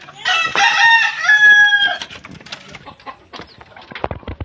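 A captive red junglefowl (labuyo) rooster crows loudly and close by in one full cock-a-doodle-doo, followed by a few softer clucks and rustling.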